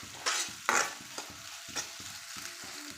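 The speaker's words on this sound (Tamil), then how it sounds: "வெங்காயம் லைட்டாக வணங்கணும். தேவைக்கு வறுத்துக்கோங்க." Onions fry in a pan for a village-style country chicken curry, with a steady sizzle broken by several sharp, close spatula scrapes, the strongest two near the start, and no voices.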